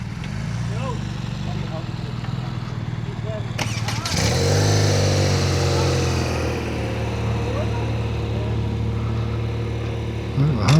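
A motorcycle engine drones steadily while riding, with a sharp shift in tone about a third of the way through before settling into an even hum, and voices talk over it.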